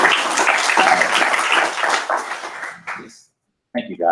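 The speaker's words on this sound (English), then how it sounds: "I want everybody to give them a round of applause." Church congregation applauding the music ministry, a loud burst of clapping that tapers off, followed by a short silence and then a voice speaking.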